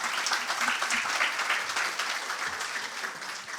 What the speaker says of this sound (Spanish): Le damos un fuerte aplauso a Juan Camilo.